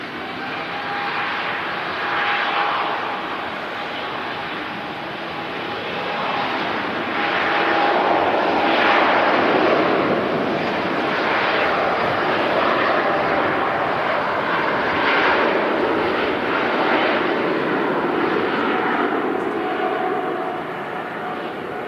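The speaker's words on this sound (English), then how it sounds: "Singapore Airlines A350." A Singapore Airlines Airbus A350 at Manchester Airport gives a steady, loud broadband engine roar with a faint whine, swelling slightly midway and holding throughout, with no talk.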